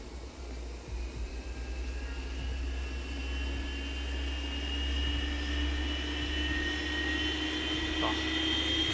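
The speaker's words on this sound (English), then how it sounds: "Oh, classic ZIBO sounds." Jet engines of a Boeing 737 in the ZIBO flight simulator game drone steadily, with a low rumble and high tonal whines that rise slowly across the clip at an even, fairly loud level.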